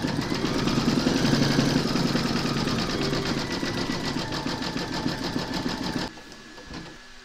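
A sewing machine stitches a round of a gnome quilt block with beard-coloured thread, a loud, fast, even mechanical whir that cuts off about six seconds in, followed by quieter handling sounds.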